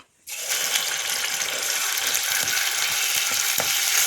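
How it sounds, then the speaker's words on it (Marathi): Ground masala of raw onion paste frying in oil for egg curry, a loud, steady, close sizzle that starts abruptly and holds without pause, with faint scraping under it; no talking. "तेलामध्ये पण तो मसाला चांगला परतवून घेतोय"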